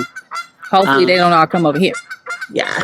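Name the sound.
ducks calling in the background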